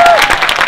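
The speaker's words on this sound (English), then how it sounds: "This is your applause." Audience applause at a magic championship performance, a dense wash of clapping from a crowd filling the whole short moment at steady loudness.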